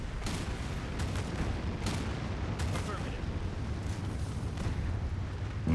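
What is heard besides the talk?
gunfire and explosions from the video game Anno 2205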